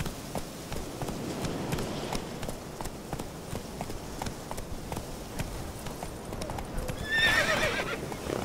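Hooves of Roach, a horse in The Witcher 3, clip-clop steadily at a gallop throughout, with a short neigh near the end; the sound is moderately close, with a faint ambient bed.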